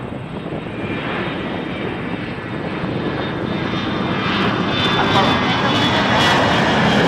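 An Airbus A321 jet at Toronto Pearson roars overhead on approach, a loud, steady engine rumble and whine that swells toward the end, with radio chatter faintly underneath.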